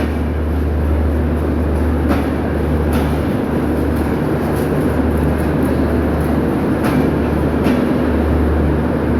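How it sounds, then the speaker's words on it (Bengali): The Panchagarh Express pulling out of Kamalapur railway station, its last carriage rolling past close by, with a loud steady rumble and repeated clicks from wheels over rail joints. "পঞ্চগড় এক্সপ্রেস ট্রেনের শেষ বগি যাচ্ছে কমলাপুর রেল স্টেশন থেকে বেরিয়ে যাচ্ছে"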